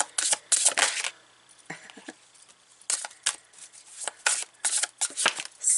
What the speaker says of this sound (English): it's my younger son cutting, chopping wood